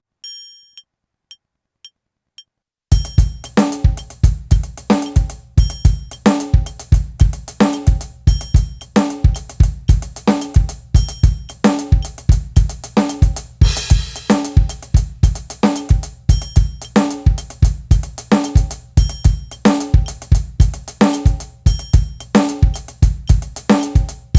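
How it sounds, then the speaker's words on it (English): A drum kit plays a steady groove: punchy kick and snare hits under a fast, even hi-hat pattern, loud and close, after a brief quiet count-in. "I'm going to try to play the same kick and snare rhythms underneath that hi-hat pattern."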